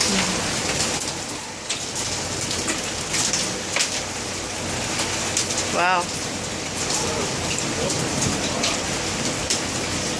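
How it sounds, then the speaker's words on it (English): Hail and rain falling outside during a summer hailstorm, a dense steady hiss of drops striking surfaces with scattered sharper hits, near and continuous, while a person speaks briefly. "The hail comes in."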